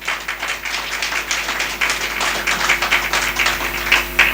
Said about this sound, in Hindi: उनके इस्तकबाल में एक बार तालियां बजा दें।